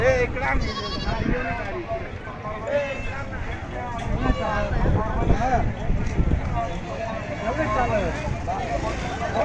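Goats bleat repeatedly amid a bustling crowd at Saykheda goat market in Maharashtra, several animals calling over overlapping human voices and market chatter.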